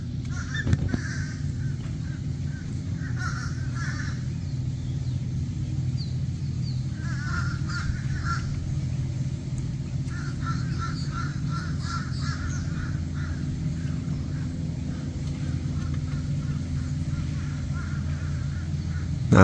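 Ospreys building a nest on a dead palm treetop in Bokeelia, Florida give repeated bursts of sharp, chirping calls at mid distance, set over a steady low rumble of wind or traffic.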